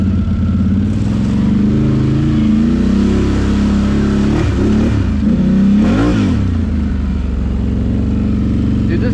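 A 2021 Can-Am Outlander 850 XMR ATV in low range, the engine loud and close, revving up and down in repeated swells over a steady running drone.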